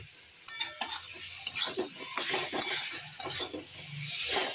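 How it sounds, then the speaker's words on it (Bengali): Masala with Kashmiri chilies being stir-fried: repeated scraping and clinking of a spatula in the pan over a soft sizzle, in uneven bursts close by. "তাই আমি একটু কাশ্মীরি লঙ্কাগুলো দিয়ে একটু ভালো করে কষিয়ে নিই।"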